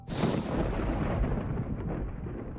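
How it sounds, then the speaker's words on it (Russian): A loud thunderclap breaks suddenly, then rolls into a deep, sustained rumble that slowly fades, as a storm breaks over a forest. "Но однажды гроза грянула над лесом."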